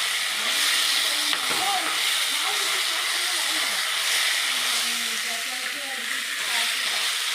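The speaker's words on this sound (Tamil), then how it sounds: "சிக்கனை போட்டாச்சு, நல்லா இதை பரட்டிக்கணும்" Chicken pieces fry in a hot pan, giving a constant hissing sizzle with occasional spitting, while faint voices and background sounds sit low underneath.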